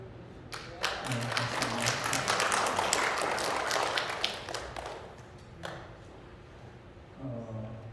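A church congregation at a Sunday service claps to welcome a visiting husband, a burst of moderate applause lasting a few seconds between short spoken remarks.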